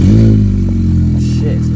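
A loud Audi S3 8V engine with an exhaust leak drones with a deep, rough, steady rumble, close and dominant, with faint clatter over it.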